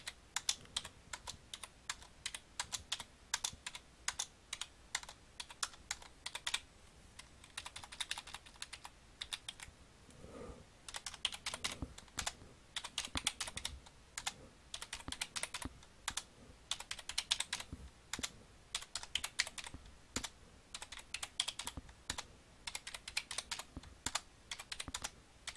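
Data keyed into a calculator's buttons, a rapid run of crisp plastic key clicks in irregular bursts, close and steady for the whole stretch, with no voices.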